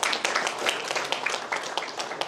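A conference audience applauds a speaker, with dense, continuous clapping from many hands throughout.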